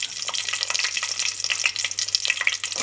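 Green chillies fry in hot oil as a broad, steady sizzle with crackling pops that carry on throughout, no voices present.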